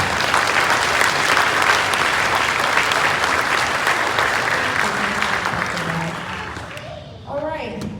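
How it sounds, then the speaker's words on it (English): An audience at a high school class orientation claps in a sustained round, loud and dense, fading toward the end as a speaker's voice comes in. "A big round of applause for Ms."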